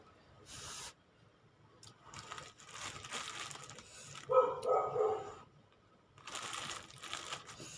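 A dog howls nearby, a drawn-out, wavering cry rising over intermittent rustling and clattering noises, with no talking.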